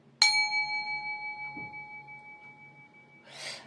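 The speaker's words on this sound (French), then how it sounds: "Petit coup de gong." One gong strike rings out close and clear, its bright tone decaying slowly over a few seconds in a quiet room, followed by a soft breathy rustle.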